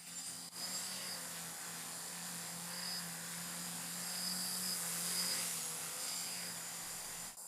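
A homemade VTOL drone flies nearby, its rotors holding a steady, high buzzing whine with faint tonal layers that swell and ease slightly as it moves, with no voices.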